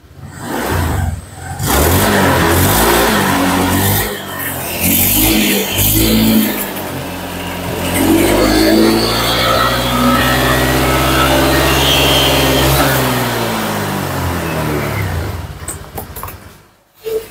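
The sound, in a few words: motorcycle engine revving with the throttle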